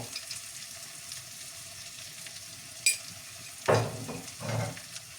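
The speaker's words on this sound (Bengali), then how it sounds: "দিয়ে আমি এটাকে এখন পেঁয়াজের সাথে ভালোভাবে মিশিয়ে নেব।" Turmeric, chili powder and salt fry with browned onions in a pan for a prawn bhuna. A soft, steady sizzle plays throughout, broken near the end by a sharp clink and a couple of louder scraping stirs.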